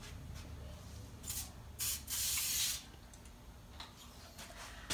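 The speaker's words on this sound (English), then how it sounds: "You will then spray mist to the gloves." Several short hissing bursts of a mist sprayer spraying onto gloves, one longer than the others, over a faint quiet background.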